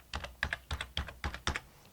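A root password goes in on a computer keyboard: six or seven quiet, separate keystrokes tapped at an uneven pace, close and alone with no voices.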